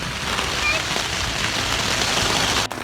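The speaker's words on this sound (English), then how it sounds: "It's been raining for like 3 hours" Rain pours onto a backpacking tent at a snowy campsite near Twin Lakes, Oregon, after hours of downpour, making a steady, close, loud patter that ends with a brief knock.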